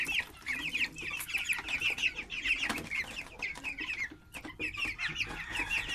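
White broiler chickens clucking in hot weather, a busy chorus of overlapping close clucks and short calls running throughout.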